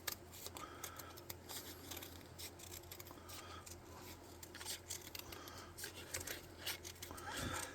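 Steady crisp snipping and rustling of scissors working through thin cardstock, close by, with small taps and scrapes, no voices.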